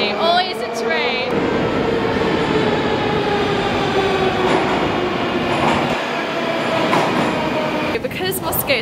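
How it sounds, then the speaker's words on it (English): A Moscow metro train rumbles loudly and continuously through an underground tunnel, with rattling wheels and occasional metallic squeals rising above the roar. "Moscow underground is really not that scary, but noisy. Noisy, always a train."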